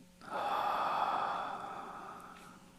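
One long, deep inhale of breath, close and clear, swelling quickly and then tapering off slowly.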